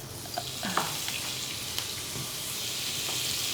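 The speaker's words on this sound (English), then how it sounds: "So you can see the butter is already burning on the edge" Butter fries in a pan in a Michelin-starred London restaurant kitchen, making a constant bright sizzle with a few light clicks and taps near the start, close and fairly quiet, with no talking.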